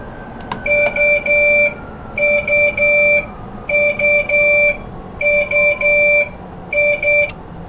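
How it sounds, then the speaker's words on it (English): Emergency alarm in the cab of a London Underground Metropolitan Line S7+1 stock train in a simulator, loud two-tone electronic beeps in repeated bursts of three to four pulses with short gaps, over a low rumble. "So acknowledge the alarm here and come to a complete stop."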